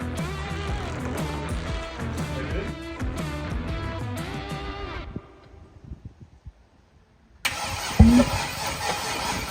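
An LS V8 swapped into a Jeep Wrangler JK cranks with a rapid, loud, rhythmic churn that drops away into near silence, then catches with a sharp bang and settles into a rough, loud running roar.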